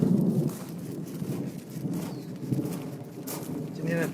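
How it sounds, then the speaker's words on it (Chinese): Thunder rolls low and deep during a rainy walk in a storm, with rain pattering around it and a voice speaking over parts of it. "这雷声好嗨啊！"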